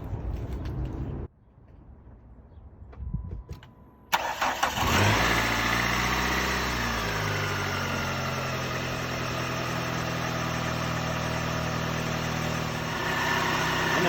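A 2002 PT Cruiser engine, with an overheating problem, cranks and fires after a quiet pause, then settles into a steady, loud, even idle that runs on without a break.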